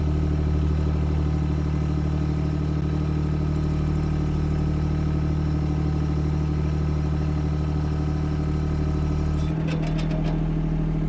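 A diesel Chinese mini excavator engine runs at a steady, loud idle-like drone with a constant low hum, a brief clatter of higher sound near the end; no talking.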